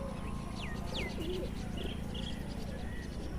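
Soft pigeon coos mixed with a few thin chirps over a steady low background hum, fairly faint and distant.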